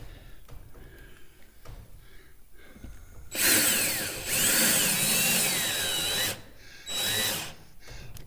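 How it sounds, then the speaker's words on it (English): A power drill drives star bit screws into a wooden tongue-and-groove ceiling board in a cabin, sounding in two loud, close whirring bursts, the first longer and the second short, after a quiet pause. "drive one of these star bit screws into that knot"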